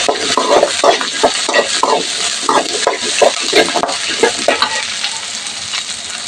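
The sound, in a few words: frying and stirring chicken liver and gizzard pepper fry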